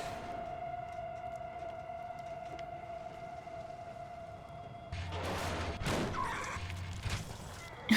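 A siren in the video game Silent Hill: Downpour, a faint sustained wail that runs steadily in the background and is then overtaken by louder game noise.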